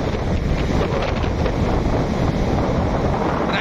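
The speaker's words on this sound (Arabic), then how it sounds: "انا عايز الموج بقى يجي هنا عشان اخد منه شويه ميه." Sea waves wash onto a beach under strong wind buffeting the microphone, a steady loud roar of surf and gusts with no pause.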